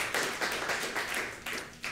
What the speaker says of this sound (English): let's give him a round of applause for all the work that he's done over the years